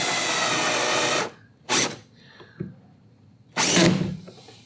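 A power drill drives a screw into the plastic hatch base of a Hobie Mirage Passport 12.0 fishing kayak. One long whirring run is followed by a short burst and then a final brief run, each close and loud, with quiet gaps between.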